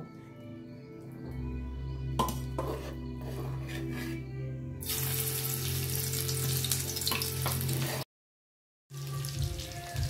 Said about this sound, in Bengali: মাছটা এখন আস্তে আস্তে ভাজা হবে।